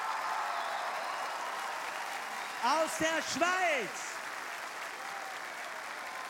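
A television folk-music show audience applauds in a steady, full wash of clapping that runs throughout, while a presenter's voice briefly speaks over it midway.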